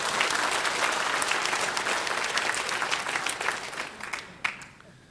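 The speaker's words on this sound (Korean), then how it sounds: "박수 박수 박수 박수." A church congregation claps steadily during a sermon, dense and lively at first, then thinning and fading out near the end with a few last claps.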